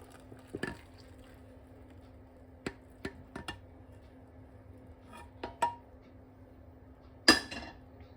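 Coffee mixture and milk being beaten in a bowl for a Costa-style coffee, heard as scattered light clinks and taps of utensil against the bowl with quiet gaps between, ending in one sharper clatter.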